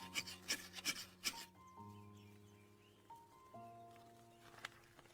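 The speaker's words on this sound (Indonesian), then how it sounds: "Mulai menggosok batang magnesium." A magnesium fire-starter rod is scraped in four quick, rasping strokes while making a fire in the forest, followed by soft, steady musical tones.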